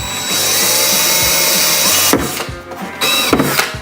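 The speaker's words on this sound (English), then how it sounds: "I'm not going to drill too hard." Power drill boring through a metal sign, a loud sustained high whine that breaks off into a few short bursts and revs close by.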